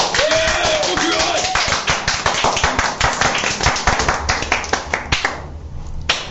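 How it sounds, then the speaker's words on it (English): Sharp, rapid hand claps ring out continuously in a lively burst of studio applause on a live radio show, fading toward the end while a voice briefly sounds underneath. "But have some applause anyway."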